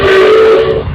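A steam whistle on a 1909 Stanley Steamer car at a power cavalcade gives one loud, close, sustained hooting blast with a hissy edge, lasting about a second and cutting off at the end.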